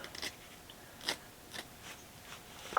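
A blade snips through whitetail deer skin along the inside of the lips, giving a few sparse, close, crisp cuts separated by quiet pauses.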